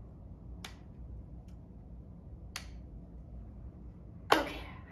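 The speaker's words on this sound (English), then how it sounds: "Can you guys clap really slow?" Children at a summer storytime clap slowly, giving three sparse, sharp claps spaced a couple of seconds apart over a quiet room. The last clap is the loudest.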